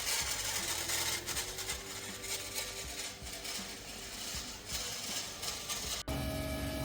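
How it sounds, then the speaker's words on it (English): A turbocharger compressor wheel scraping against its turbo housing on a car needing service, a steady mechanical grinding and whirring with faint ticking, close and continuous, cutting off abruptly near the end. "The noise you can hear is from the compressor wheel scraping on the turbo's housing"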